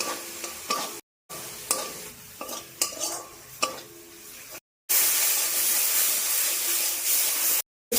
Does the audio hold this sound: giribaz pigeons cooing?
no